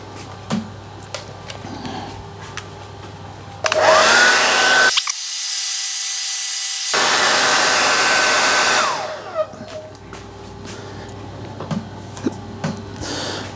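A hair dryer switches on and blows steadily for about five seconds to speed-dry a watercolour painting, then cuts off. It is loud and close, with quiet room sound before and after.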